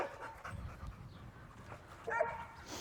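Dogs panting in hot weather at a dog shelter, where umbrellas and pools are set out for them; steady close breathing with a brief whimper or yip near the end and no talk.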